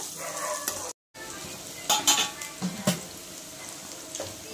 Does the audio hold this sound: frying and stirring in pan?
yes